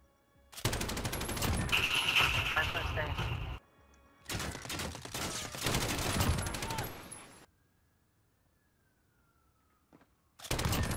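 Rapid gunfire in a Call of Duty Modern Warfare match comes in loud dense bursts with short gaps between, mixed with game effects and voices talking over it.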